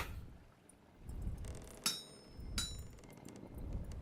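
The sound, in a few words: hammer breaking sound in the video game Vintage Story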